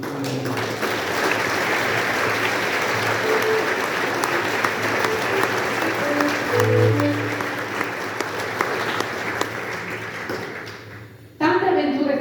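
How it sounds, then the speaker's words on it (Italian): Sustained, steady applause from an audience at a book event about cycling with Parkinson's fills the room for around eleven seconds, dense and close, before it abruptly cuts off. "Io farei un applauso a Pino in questo momento."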